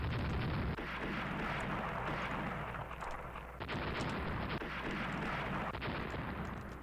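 Warship guns fire in the naval strategy game Ruling the Waves, with heavy booming salvos at intervals over a constant dense roar of battle noise and no voices.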